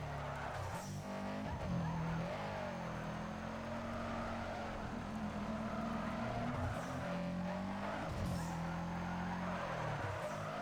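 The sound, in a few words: all-wheel drive car drifting in video game NFS Underground 2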